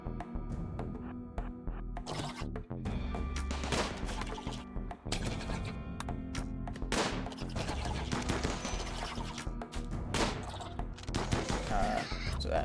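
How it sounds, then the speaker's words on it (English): Defensive turrets in the video game RimWorld fire in steady bursts of rapid gunfire, sharp cracks repeating across the whole stretch with a few heavier hits, no talking over it. "let our turrets take care of them"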